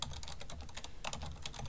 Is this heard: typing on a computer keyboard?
yes